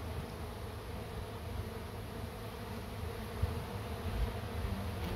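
Bees hum continuously around a tree hive newly moved into a box, the queen already inside; the buzzing is a dense, steady drone with small bumps and no talk.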